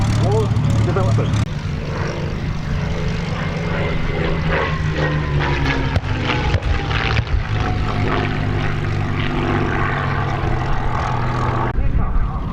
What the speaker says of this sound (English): Here come 3 Spitfires to take on the messengers.